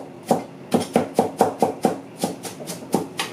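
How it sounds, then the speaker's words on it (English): A kitchen knife chops onions on a cutting board in nine even, fairly close strikes spaced just under half a second apart. A faint background hum runs underneath, with no talk. "I can chop onions all day."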